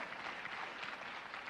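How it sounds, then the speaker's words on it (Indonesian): A church congregation claps together in a sustained, dense burst of applause, moderately quiet and brief, with no speech over it. "Yang percaya beri tepuk tangan bagi Tuhan"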